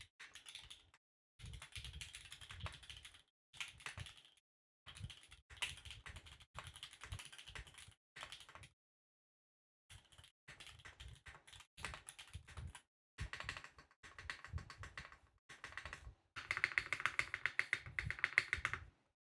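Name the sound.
typing on top-mount mechanical keyboards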